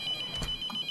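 Electronic phone ringtone from the horror game The Mortuary Assistant, a steady high repeating ring across the whole moment, clear and fairly near with no talking over it.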